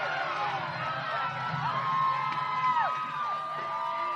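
Crowd at a high school football game between West Elk and Sedan in Kansas cheering and whooping, a steady broad roar with rising shouts and whistles, heard from a distance.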